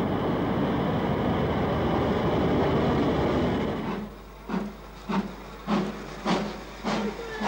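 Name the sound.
British Rail Advanced Passenger Train (APT)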